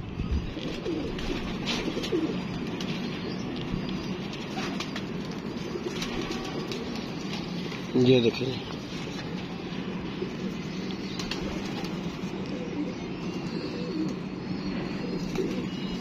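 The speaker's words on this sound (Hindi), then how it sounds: "खानदानी कबूतर है ये।" Pigeons coo steadily through a low, murmuring hum, with a brief louder burst near the middle and a faint voice speaking once, several male birds kept together in a box.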